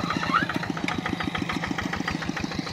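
A small engine runs steadily at a fast, even chugging rhythm throughout, loud and close, during bare-handed eel hunting outdoors.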